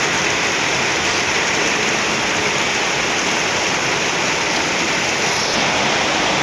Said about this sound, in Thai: ำฝนตกแล้วนี่นะพี่น้อง